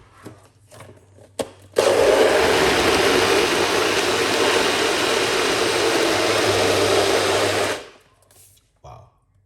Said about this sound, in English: Let's blend.